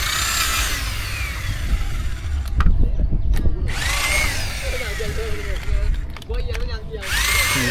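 A power drill bores holes so oil can soak in during repairs to a broken bamboo bridge, loud high whining bursts at the start, middle and end, separated by stretches of knocking and handling noise, with someone talking in between.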